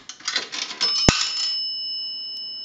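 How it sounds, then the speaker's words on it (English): A single bright ding from the coin bell of an Automatic Electric three-slot payphone as a nickel is deposited, heard up close and alone, with a sustained metallic ring that fades slowly. "a nickel that will ring the bell once"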